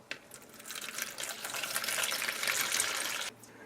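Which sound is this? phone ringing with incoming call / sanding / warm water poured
warm water poured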